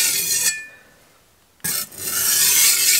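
A damaged Shun cleaver's edge drawn across a sharpening stone makes a loud, broad rasping scrape, then a short pause and a second long abrasive stroke.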